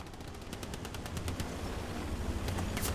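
Machine-gun fire rakes the side of a tank on Utah Beach in Hell Let Loose, rapid bursts of crackling shots over a dense rumbling battlefield din with no voices.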